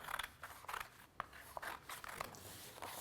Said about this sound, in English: now I'm gonna cut our sleeve out